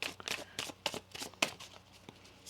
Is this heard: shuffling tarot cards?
yes